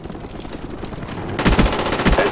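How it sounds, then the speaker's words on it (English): An AH-1 Cobra attack helicopter in Call of Duty: Black Ops opens fire, with a loud burst of rapid automatic gunfire following a quieter rattling stretch, close and punchy. "Friendly Cobra inbound."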